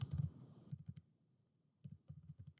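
Computer keyboard typing as a web address is entered during software installation, quick bursts of key clicks at the start, a pause, then another run of close, fairly quiet keystrokes.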